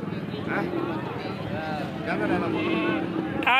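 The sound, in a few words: goats bleating at a goat market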